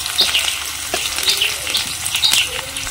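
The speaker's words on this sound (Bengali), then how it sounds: "পেঁয়াজগুলো একটু হালকা ভাজা ভাজা করে নেব।" Onions with chopped garlic fry in a pan, producing a close, steady sizzle with soft bubbling crackles and occasional stirring, fairly loud and without talk.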